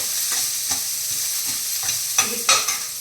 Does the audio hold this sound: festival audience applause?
no